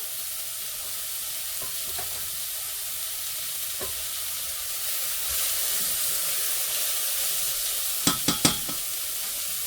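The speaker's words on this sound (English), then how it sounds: "you want to get the sizzle first. So you hear the sizzle." Steady, close sizzling of food frying in a hot pan fills the whole stretch, with a few brief clinks and scrapes near the end.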